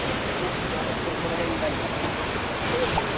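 Waterfall at a temple in Nikko, Japan, a steady broadband roar of rushing water heard up close, with faint voices underneath.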